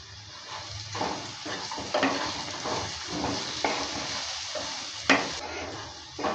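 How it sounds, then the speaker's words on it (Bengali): Mustard greens with potatoes and peanuts are stirred in a frying pan, a continuous sizzle broken by repeated scraping strokes and soft clanks of the utensil against the pan. "দেওয়ার পর ভালো করে আবারও নেড়ে নিচ্ছি"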